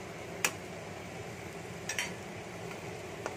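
Lote fish (Bombay duck) being stirred in a hot frying pan for jhuri, a steady soft sizzle with a few sharp clinks of a utensil against the pan.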